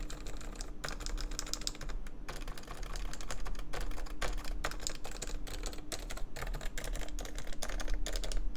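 Typing on a mechanical keyboard fitted with a silenced, lightly lubed Topre keycap set, giving a steady run of soft, muted keystrokes close up with brief pauses and no talk.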